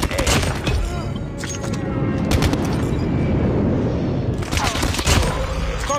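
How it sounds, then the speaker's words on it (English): Explosions from an airstrike in Call of Duty Mobile come as a dense, continuous roar of booms and rapid gunfire bursts, loud and close, with faint game voice callouts mixed in. "Friendly airstrike incoming."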